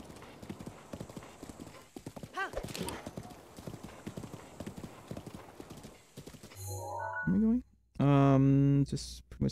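A horse gallops in The Legend of Zelda: Breath of the Wild, its quick drumming hoofbeats running steadily for several seconds under a speaking voice, then giving way to louder tonal game sounds near the end.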